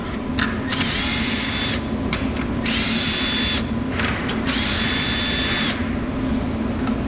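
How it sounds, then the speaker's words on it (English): A cordless screw gun whirs in several short and longer bursts, backing screws out of a wooden tote storage rack, close and steady against a constant background hum, with brief pauses between screws. "Let's grab our screw gun and take the screws out of the top of the back of the 45s"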